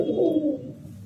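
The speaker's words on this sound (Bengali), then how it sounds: "অ্যাক্টিভ পায়রা দেখুন" A single active Kalsira Madrasi high-flying pigeon gives one short, low throaty coo close by, which fades quickly into quiet.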